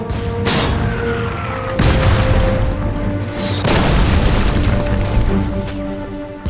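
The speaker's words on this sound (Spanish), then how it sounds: "Pero en el camino, los dos hombres fueron atacados con fuego de mortero." Mortar fire in a World War II documentary about the retreat from Normandy: heavy booming blasts in a dense, continuous barrage, with several distinct impacts rising above a loud rumbling wash.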